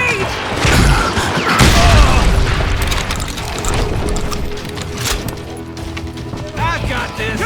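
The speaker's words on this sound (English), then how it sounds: "They're shooting in the street!" Gunfire in a street shootout in the video game Call of Juarez Gunslinger. Loud bursts of shots, booms and mechanical clatter run throughout, with shouting voices mixed in.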